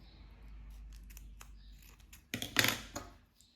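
Scissors snip through cord while a half-moon pouch is being made, giving one short, close, crisp cut over a quiet background.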